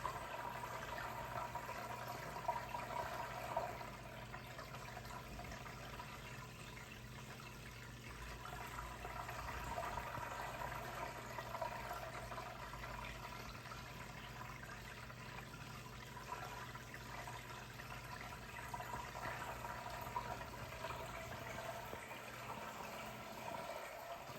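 Water gurgling and trickling in an external overflow box on a 180-gallon aquarium, a steady close wash of flowing liquid with a fluctuating level and low hum beneath, continuous with no talk.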